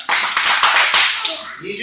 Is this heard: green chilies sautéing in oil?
no